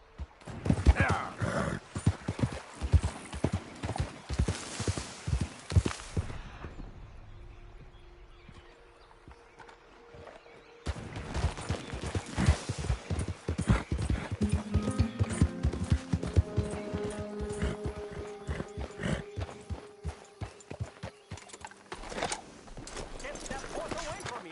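Horse hooves clip-clop in Red Dead Redemption 2, loud and rhythmic, pausing briefly and then resuming, with other game sounds and voices mixed in.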